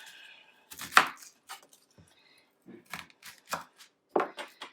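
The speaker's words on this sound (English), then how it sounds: "I'm going to go ahead and peel my onion." Dry, flaky onion skin being peeled off by hand over a garbage bag, a series of soft crackling rustles and crinkles in short bursts with quiet pauses between.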